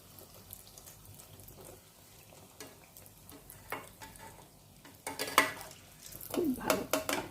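Prawn kachori frying in hot oil, stirred with a spatula so it puffs up, faint sizzling broken by scraping clinks against the pan that grow louder and busier toward the end.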